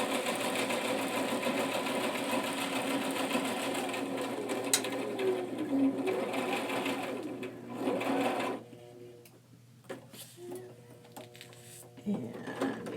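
A sewing machine stitches a zippered pouch made from recycled material, running steadily and slowly, then pausing and restarting in short bursts near the end.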